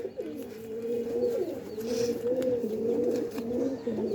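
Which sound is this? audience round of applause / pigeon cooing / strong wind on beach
pigeon cooing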